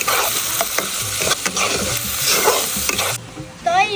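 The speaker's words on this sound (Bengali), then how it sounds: "তো এবার দিয়ে দেবো পাতাকপি কুচি। মুখে বাড়বে রুচি। ভালো মতো নেড়ে চেড়ে নিচ্ছি।" Tomato and chopped cabbage being stirred in a hot pan for fried rice, giving a loud close sizzle broken by repeated scraping strokes, then a brief quieter moment and a final stir.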